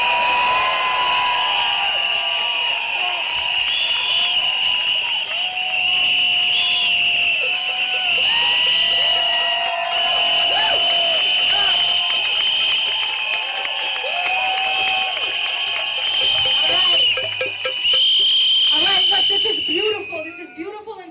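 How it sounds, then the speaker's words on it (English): At a Washington DC protest, a loud crowd fills the air with constant shrill whistle blasts and a mass of shouting voices, sustained and dense throughout. "Blow whistles. If you've got a drum, beat that drum. Make some noise."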